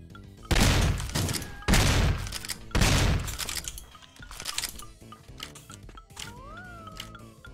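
Gunfire from a first-person video game, Unholy Commotion: three heavy, loud shots in quick succession, followed by softer thumps and scattered game effects.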